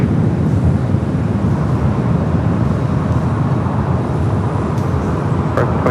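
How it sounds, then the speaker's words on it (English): Loud, steady broadband jet roar of a Swiss airliner taking off at LAX, mixed with ambient airport rumble, continuous throughout with no voices. "Swiss up next for takeoff"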